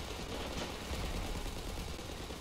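Gunfire in the Ravenfield video game, set in a WWII Soviet scenario, comes as a dense, steady burst of rapid shots, loud and continuous throughout with no clear pauses.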